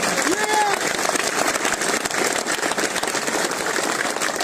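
A crowd at a political party nomination rally in Jhunjhunu, Rajasthan, claps loudly and continuously in a dense, roaring wash, with voices and shouting mixed throughout.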